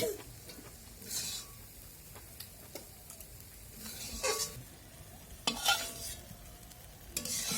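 Leafy greens are stirred and fried in a pan, soft sizzling under repeated scraping strokes of a utensil against the metal, several sharp scrapes spaced irregularly and close by.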